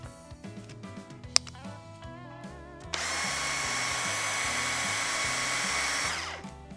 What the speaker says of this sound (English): this has a third speed, so it spins at a much higher RPM than a normal drill